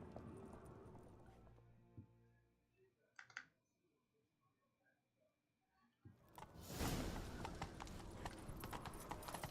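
A horse's hooves clip-clopping in The Witcher 3 video game, quiet rhythmic hoofbeats fading out, then a louder rush of galloping hooves and movement near the end.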